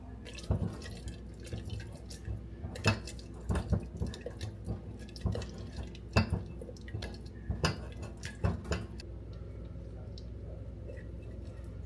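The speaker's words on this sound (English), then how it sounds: "let's add just a little bit more water." Water being added to a thick sourdough starter: soft, irregular drips and splashes with small ticking contacts, fairly quiet and close, with no talking.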